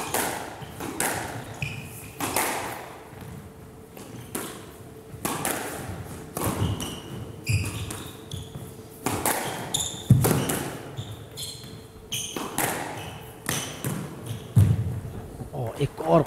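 Squash ball struck in a drop shot during a professional match at the Karachi Open, heard as sharp repeated thuds and pings of ball on racket and wall, fairly close, over steady crowd and court ambience with a commentator talking.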